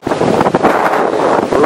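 Storm surf roars against the Scituate seawall in a blizzard, heavy wind buffeting the microphone in a loud, continuous rush with surging waves beneath.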